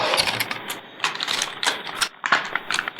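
Clicks, ratcheting snaps and plastic scrapes as the supplied CPU cooler fan is fitted onto a PC processor, close and irregular, with no talk.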